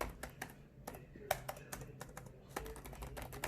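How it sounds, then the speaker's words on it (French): Keys on a Huawei MateBook D15 laptop keyboard are tapped in quick, irregular clicks, short and firm, recorded up close in a quiet room. "Écoutez juste le son des touches."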